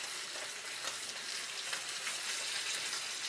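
T-bone steak searing in a pan while being basted with butter and aromatics, a steady close crackling sizzle with no speech.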